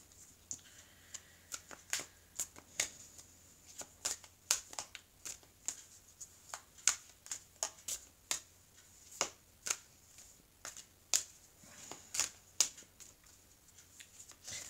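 Oracle cards are shuffled close up in a long series of crisp, irregular riffling snaps against a quiet background.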